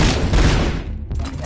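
Rapid gunfire from the RoboCop video game, a dense loud burst of shots that fades briefly before another sharp report near the end.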